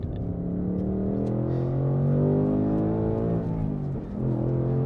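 A 2024 Ford Mustang Dark Horse with a Tremec manual and the handling pack revs up and settles as it rev-matches a downshift into second, its engine note rising and falling loud and close with no voices.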